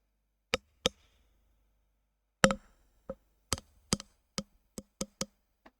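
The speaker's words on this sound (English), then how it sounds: "I could tap the microphone with a chopstick to see if that makes a nice sound" A chopstick taps a microphone about a dozen times, sharp dry clicks, a few spaced out at first and then coming quicker and more steadily.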